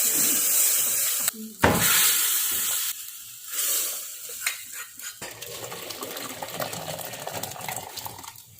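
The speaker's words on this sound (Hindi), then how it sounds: "दाल को छौंक लगाने के लिए 1 चम्मच देसी घी, थोड़ा सा जीरा डाला है, कड़ी पत्ता, हींग और थोड़ा सा कटा हुआ लहसुन।" Cumin, curry leaves, asafoetida and chopped garlic sizzle and crackle steadily in hot ghee for a dal tempering, with occasional clinks of a spoon against the pan and no talking.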